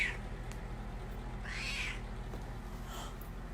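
A clingy pet cat meows several times, faint and close, with a longer drawn-out meow in the middle and a softer one near the end over a low steady hum.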